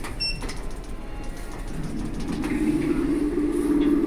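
Lift doors of a Gen 2 elevator in a Watford building with a casino opening early, a rising sliding mechanical whir that builds and holds steady over a noisy indoor background.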